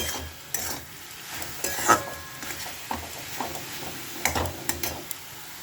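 Fish fries in a pan at home, a soft sizzle running under scattered stirring scrapes and clinks of utensil against cookware, fairly close and quiet, with no voices.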